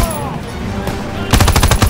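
Call of Duty WWII gunfire in a 1944 French stronghold battle: a rapid burst of loud machine-gun shots rattling in quick succession, preceded by quieter battle ambience.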